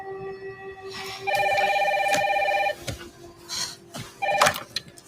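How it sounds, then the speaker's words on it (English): A telephone rings indoors in a home during heavy rain, two loud electronic trilling rings separated by a pause, with faint background clatter and no speech. "Mom, phone."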